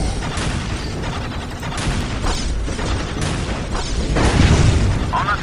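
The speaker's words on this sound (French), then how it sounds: "On nous tire dessus." Dense gunfire and booming explosions from a Warhammer 40K video game battle, a continuous loud barrage of blasts and bursts that swells louder near the end, with no speech.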